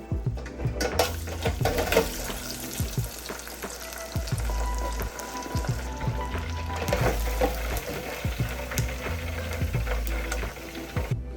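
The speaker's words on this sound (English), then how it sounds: "now let's do the first fry for these wings" Chicken wings deep frying in oil for their first fry, a continuous bubbling sizzle with scattered pops and clicks, fairly quiet and steady with no talking.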